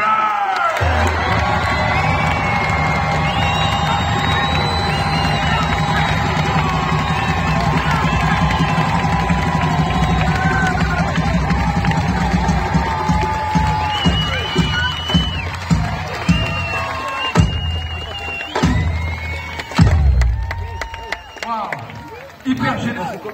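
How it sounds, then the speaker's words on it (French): A loud audience cheers, whoops and shouts in a steady roar answering a host's call for maximum noise at an evening show. The crowd noise stays dense throughout, with claps and shouts breaking out more sharply toward the end. "auriez-vous la générosité de nous offrir ce soir un maximum de bruit"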